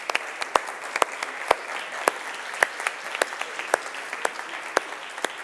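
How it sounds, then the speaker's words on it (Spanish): Audience applause greets the director of the National Library as he comes on stage at an education and economic development congress. Sharp, separate hand claps ring out in a fairly sparse, steady rhythm against a quiet hall. "Mangel, director de la Biblioteca Nacional, a quien recibimos con un fuerte aplauso, por favor."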